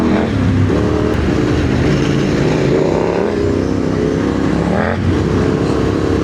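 A loud KTM 890 Adventure engine with a de-catted rally exhaust growls steadily, rising in pitch with a few short throttle blips, close by and unbroken.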